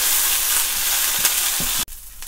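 Coriander leaves sautéing in a hot pan give a loud, continuous close sizzle with faint stirring scrapes, which cuts off abruptly near the end and leaves quiet room tone.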